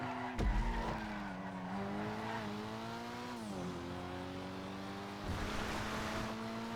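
A Dinka Jester RR sports car in GTA skids through a harsh right turn, with a steady engine drone, rising and falling pitch as it shifts, and a loud tyre squeal at the start.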